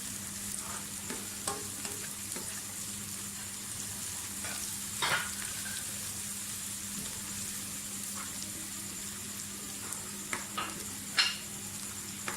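Onions fry in a pan for chicken qeema, giving a soft, even sizzle with occasional stirring clatter and light pops, fairly quiet throughout.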